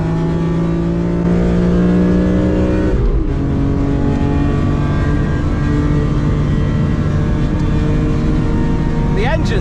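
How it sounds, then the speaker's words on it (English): A BMW M3 CSL engine howls at the Nürburgring, a loud, sustained buzzing drone with steady high revs that dip briefly as it shifts, then climb again, close and continuous throughout. "Engine sounds amazing."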